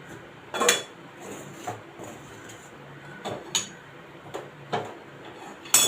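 A spoon stirs hot steamed rice-flour dough for ukadiche modak in a metal pot, giving several spaced, close metallic clinks and knocks against the sides.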